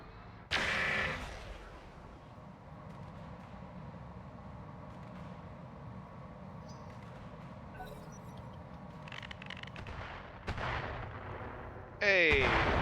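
Heavy booming gunfire in the RogueTech mech battle game, a few loud blasts over a steady engine-like rumble, with sharper bursts near the end.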